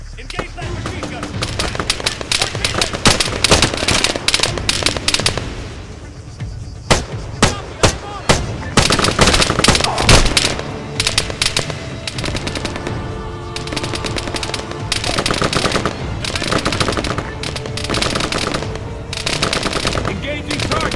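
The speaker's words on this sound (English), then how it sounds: "engage that machine gun!" Machine guns fire in Arma 3, played on Ubuntu Linux, in long, loud, dense bursts of automatic gunfire with heavier blasts and brief pauses, while voices call out during the fight.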